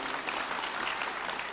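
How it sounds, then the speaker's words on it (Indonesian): An audience claps in a brief burst of applause, a dense, steady patter of many hands heard at a moderate distance with no voices over it. "Tepuk tangan untuk Indonesia."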